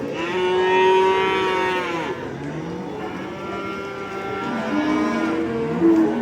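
Water buffalo at a livestock bazaar moo in long, loud, drawn-out calls, one after another, with a lower answering moo near the end and no talk.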